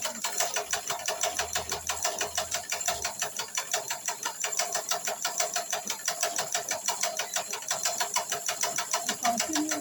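A sewing machine stitches fabric at a steady fast rhythm, its rapid needle strokes running continuously and fairly loud throughout, with no talk over it.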